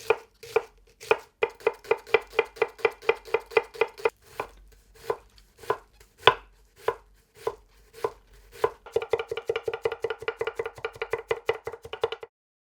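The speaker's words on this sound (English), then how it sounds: "Dice the onions." Onions are diced with a knife on a cutting board in a kitchen, producing rapid, crisp rhythmic chopping taps close up, with short pauses between bursts and a fast run near the end.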